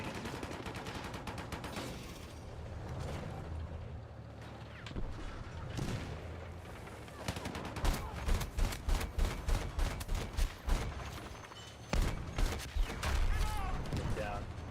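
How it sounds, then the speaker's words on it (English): An APC fires in a Battlefield 6 battle. Heavy cannon fire comes as rapid rhythmic bursts of booming shots, pausing and then resuming loudly, amid other battle noise and voices. "The APC was just shooting at me."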